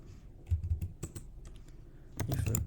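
Code is typed on a computer keyboard in quick, soft clusters of keystrokes with short pauses between bursts, close by and fairly quiet, with no voices.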